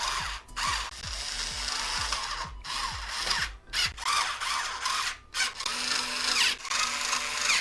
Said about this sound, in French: Pas perceuse, mais drill.